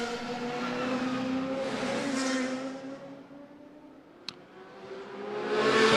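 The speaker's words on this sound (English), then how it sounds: "There you've got the Aston Martin going through as well, in the hands of Yang Meng Zhao." GT4 race cars, including an Aston Martin, sweep past on the Macau Grand Prix street circuit during qualifying, engines swelling and fading as they pass at speed, with a sharp click midway and another car approaching at the end.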